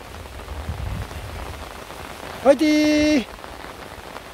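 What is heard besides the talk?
heavy rain falling on a mountain summit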